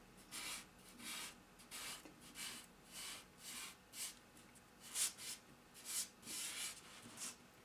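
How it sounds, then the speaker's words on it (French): Fingers rub pastel across paper in quick rhythmic strokes, a soft close scratchy swish that repeats about once or twice a second. "On frotte, on en veut un peu plus. On rajoute du pastel."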